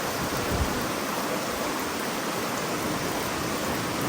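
Heavy storm-like rain in a rural fishing spot in Asingan, Pangasinan, a dense, loud, unbroken hiss of downpour with no pauses throughout.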